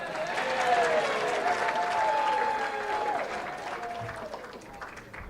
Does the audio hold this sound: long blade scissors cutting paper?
no